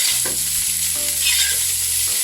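Shrimp fried rice being stir-fried in a pan, a steady close sizzle with scraping, stirring strokes of the spatula running throughout, no voices.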